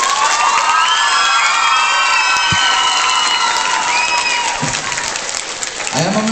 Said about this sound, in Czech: Tak zatleskejte všem těmto dětem